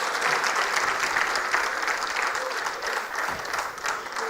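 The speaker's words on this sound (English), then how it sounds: "Guys, we can clap." An audience at a university convocation award ceremony claps steadily, a dense even patter of many hands at moderate distance, holding without pause throughout.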